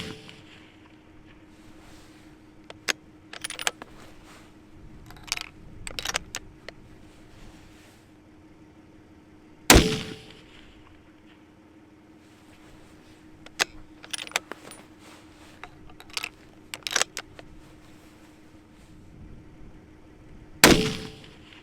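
Two sharp, loud .300 WSM rifle shots firing 215-grain Berger bullets crack about eleven seconds apart, each a sudden broadband blast, with quieter clicks and handling noises from the rifle and gear scattered in between.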